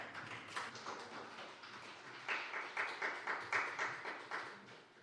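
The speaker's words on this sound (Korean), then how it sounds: "여러분들 큰 박수로 환영해 주시죠" An audience claps to welcome a speaker at a free-speech contest for deaf-blind people, a steady patter of many hands that swells midway into rhythmic, fairly distant applause.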